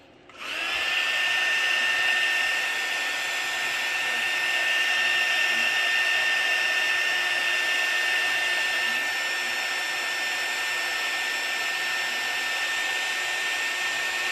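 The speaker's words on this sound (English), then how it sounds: "I'm going to take the heat gun. And I'm going to put the heat on it to get it moving." A heat gun blows hot air over an ink swirl tumbler, a steady loud whirring hiss that switches on within the first second and runs unbroken to the end, with no voices.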